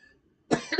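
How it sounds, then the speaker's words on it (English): A single sharp cough, close and fairly loud, after a short stretch of near silence and with no talking. "I have a bit of a cough"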